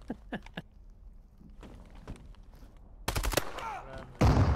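Gunfire in an extraction shooter game: a few faint distant shots and soft thuds, then a loud close burst of rapid fire followed by another heavy blast at the end.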